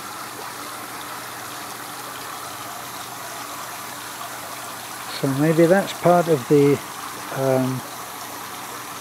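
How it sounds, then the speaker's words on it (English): Swimming pool water overflowing into an overflow channel at a pool machinery room, a steady close gush and trickle running throughout while someone talks partway through. "It's coming on over there, overflowing into that."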